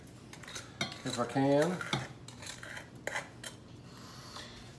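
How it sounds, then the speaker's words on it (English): Garlic and red pepper flakes go into a pan with a burst of metallic clatter and scraping from utensil on cookware, and a short voiced sound rises in the middle. "So we'll go ahead and get this all in the pan right here"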